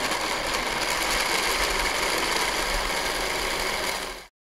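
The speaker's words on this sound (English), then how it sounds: "we can blend the melon into a puree" A blender purees melon for sorbet, a steady dense whirring motor noise running loud and unbroken for about four seconds before cutting off abruptly.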